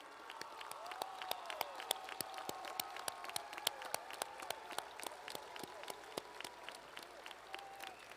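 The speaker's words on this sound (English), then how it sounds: "I want to applaud you." Audience applause at a 2022 high school graduation ceremony, steady clapping from a large crowd lasting several seconds, with faint voices and cheers mixed underneath.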